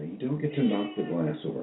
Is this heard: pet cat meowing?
yes